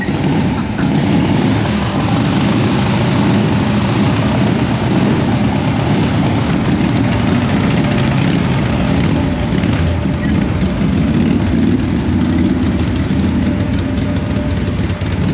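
Several old Harley-Davidson motorcycles, including a 1979 Shovelhead, idle together after being started, making a loud, dense, continuous low rumble of overlapping engines.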